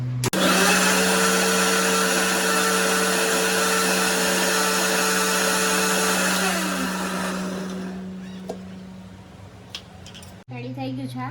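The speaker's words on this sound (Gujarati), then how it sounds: "મિક્સર તારા કરતા વધારે અવાજ કરે." An electric mixer grinder blends a watermelon drink with a loud, steady whirring drone. It winds down and stops, and a short burst of running starts again at the very end, with voices talking in between.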